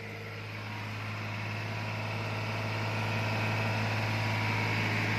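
Steady mechanical drone from a New Holland 4x4 tractor engine pulling a very heavy load in first high gear, a continuous low hum with a constant tone that grows slightly louder over time, heard close with no talk.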